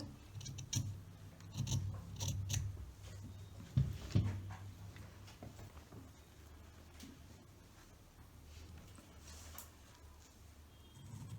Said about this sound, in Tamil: இப்போ இந்த இடத்துலையும் நீங்கள் கரெக்டாக கட் பண்ணிக்கோங்க